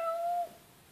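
A kitten gives a single short, high, thin meow up close, clear and tonal for about half a second before it trails off into quiet room hush.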